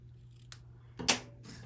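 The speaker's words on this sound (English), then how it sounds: "Now I'm going to cut a piece about 5 inches." Scissors cutting a short length of herringbone ribbon for card making, two or three brief, close snips in a quiet room, the last one loudest.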